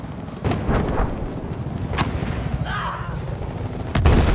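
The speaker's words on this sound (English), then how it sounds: "Too many fucking grenades." Battlefield 4 combat noise with booming grenade explosions and gunfire, several sharp blasts over a dense, rumbling battlefield din.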